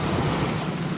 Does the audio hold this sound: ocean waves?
yes